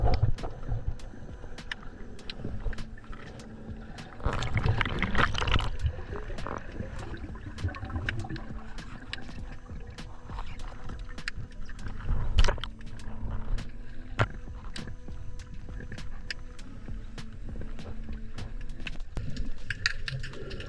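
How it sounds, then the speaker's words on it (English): Underwater in a sandy clearing in Cosy Bay, the ocean gives off a dense, continuous crackle of sharp pops and cracks, some loud and near, over a low rushing wash of water. "you can truly hear the pops and cracks of the ocean"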